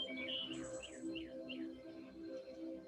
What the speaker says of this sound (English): birds leading the chorus